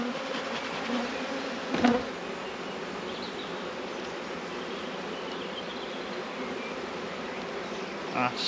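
A dense, steady buzz of many honey bees around an open hive, close and continuous, with a brief louder thump partway through and no talk.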